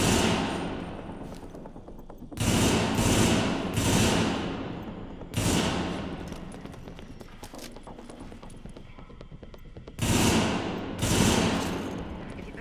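Bursts of gunfire in The Division, a 2016 shooter, come in repeated loud volleys of rapid shots over continuous game background noise, with gaps between bursts.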